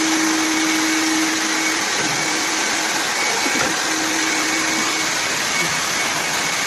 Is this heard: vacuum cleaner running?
yes